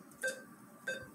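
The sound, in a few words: neurofeedback software beep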